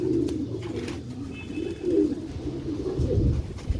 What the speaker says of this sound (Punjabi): ਪਾਵਰਫੁਲ ਕਬੂਤਰ ਹੈ ਦੋਸਤੋ ਭਰਾਓ